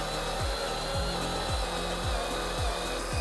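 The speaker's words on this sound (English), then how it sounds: "Now it's come time to drill that 2-inch hole." A power drill bores a 2-inch hole through a thick case, a steady loud whirring with a regular catching, juddering pulse about every half second as the bit cuts.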